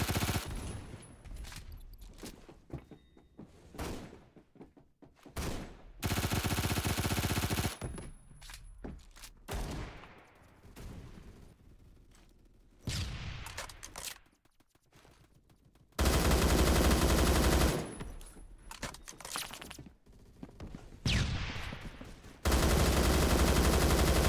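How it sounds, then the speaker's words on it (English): An AK-12M rifle fitted with a red dot sight in the shooter Phantom Forces, firing several loud sustained automatic bursts of a few seconds each, separated by quieter stretches and short single shots. "want to test my AK-12M with the red dot?"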